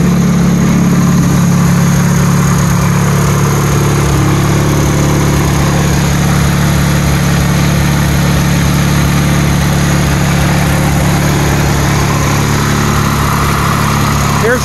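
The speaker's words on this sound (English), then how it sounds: "Now this is a twin cylinder Wisconsin inline twin." A Wisconsin twin-cylinder inline engine on a Bolens Grounds Keeper garden tractor idles steadily and loudly up close, a constant low chugging drone with no breaks.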